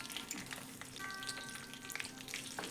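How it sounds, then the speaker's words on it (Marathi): Curry leaves, cumin and mustard seeds sizzle and crackle steadily in hot oil, a dense close-up frying hiss with scattered pops and no voices. "त्याच्यात कढीपत्ता टाकायचा, जिरे टाकायचे, त्याच्यात मोहरी टाकायची."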